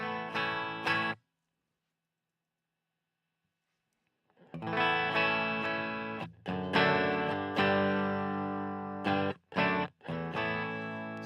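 An electric guitar played through a King of Tone clone overdrive pedal set at moderate drive, ringing chords with mild grit that stop for a pause and then return in several strummed phrases with short breaks.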